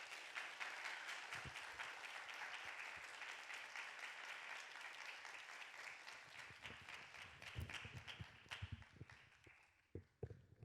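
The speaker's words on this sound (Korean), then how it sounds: "우리 선교사님 나오실 때 우리 감사의 환영의 박수를 한번 보내주시면 감사하겠습니다." Audience at a church youth worship service applauds to welcome a visiting missionary to the front, a steady, dense wash of clapping lasting throughout that thins into scattered louder claps near the end.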